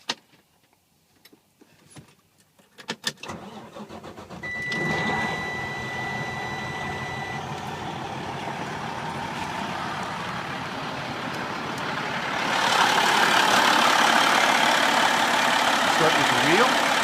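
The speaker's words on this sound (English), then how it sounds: "I'm going to start the unit up so we can hear the motor." A 2006 Freightliner Columbia truck starts up: a few clicks and clunks come first, then the engine catches and settles into a steady, rumbling idle. It grows louder and fuller for the last several seconds.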